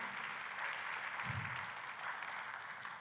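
A congregation at a Christmas church service claps together in a steady, moderately loud patter of applause that fills the room, with no speech over it.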